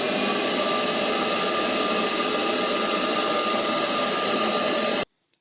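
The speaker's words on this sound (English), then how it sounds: "So let's go ahead and start the vacuum. It's going to be a little noisy" A shop vacuum runs steadily and loudly, drawing vapors through a Honda or Acura EVAP canister, a constant whirring roar that cuts off abruptly near the end.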